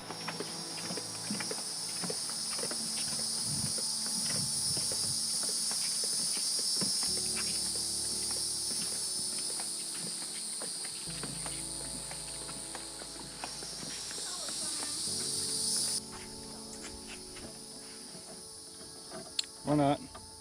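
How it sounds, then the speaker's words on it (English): Dense, continuous high-pitched buzzing of cicadas in a forest on Cumberland Island surrounding the listener, with faint rustling and scattered low sounds beneath; the drone drops off near the end. "it seemed to sound like the cicadas were surrounding us"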